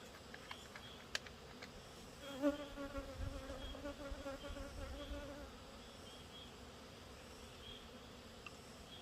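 A steady insect buzz hums throughout, a hornet droning close by with a faint outdoor background and occasional small clicks.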